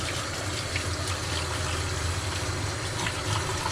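Hot tap water runs steadily indoors while a tie-dye shirt is rinsed, a dense, even hiss and splash that stays constant throughout with no talking.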